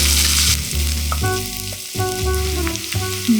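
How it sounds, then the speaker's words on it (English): Cumin seeds and garlic fry in butter and olive oil in a pan, a loud, close, continuous sizzle with bursts of crackle and tonal hum running through it. "Take butter and olive oil in a pan. Temper cumin seeds and saute garlic until turns brown."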